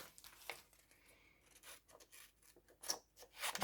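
Scissors snip through paper to cut out a Polaroid-style shape, a series of quiet, close, crisp cuts and rustles in irregular rhythm.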